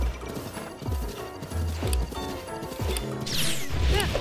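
A horse galloping in a Zelda video game, rapid rhythmic hoofbeats pounding close and loud alongside crashing impacts and game effects, with a few rising whooshes near the end.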